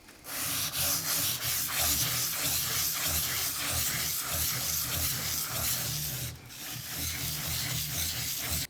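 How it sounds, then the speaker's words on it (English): A knife blade rubs back and forth on a wet whetstone lubricated with soapy water, a close steady rhythmic grinding scrape with a brief pause near the end. "I'm going to place that under my stone, grip it around both sides, and then continue sharpening my knife"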